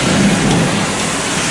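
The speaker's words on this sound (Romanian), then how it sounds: "Ploaie de vară, cu fulgere, tunete, ploaie torențială, tot ce trebuie." Heavy summer thunderstorm in Luxembourg, a torrential downpour roaring steadily and loudly with a low rumble of thunder underneath, no voices.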